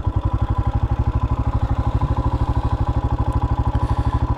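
A car engine idles steadily at about 1600 RPM, giving a loud, close, even throb of rapid regular pulses that holds unchanged throughout with no talking.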